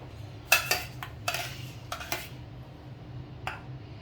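Metal spoon clinking against a plate while plating sauce around seared tuna, several sharp close taps and scrapes in uneven bursts, loud and alone over a quiet kitchen hum.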